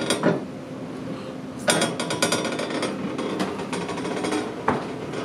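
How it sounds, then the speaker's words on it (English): Metal ladders rattle aboard the Kingswear Castle paddle steamer, with irregular clanks and knocks over a steady mechanical engine rumble, and several sharp bangs stand out close by. "That's like these ladders rattling."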